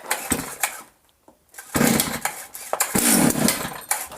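A Stihl MS 250C chainsaw is pull-started, giving a few short ragged bursts of engine sputter and cranking that fail to catch, separated by a brief quiet gap, close and fairly loud.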